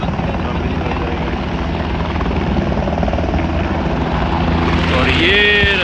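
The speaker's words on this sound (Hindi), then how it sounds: "ये इन्होंने रोक दिया, ये अब उड़ के सामने चला जाएगा।" A helicopter on the Kedarnath pilgrimage route takes off and flies, its loud rotor thump and turbine whine steady and close, swelling in pitch near the end while people talk over it.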